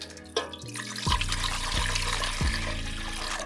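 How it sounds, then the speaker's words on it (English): Warm water pours steadily into a bread pan in a home kitchen, a continuous close splashing gurgle with a few small bumps, going on without talk. "So to our bread pan, I'm going to add 2 cups of warm water"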